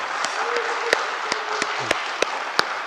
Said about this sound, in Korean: 목사님께 감사의 박수를 또 한 번.